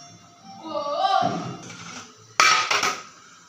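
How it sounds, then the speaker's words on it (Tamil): Steamed Kanchipuram idli are tipped onto a plate with a soft clatter of metal cookware, topped by a sharp knock against the plate, while someone talks over the sounds. "எடுத்து தட்டில் கொட்டிடலாம்"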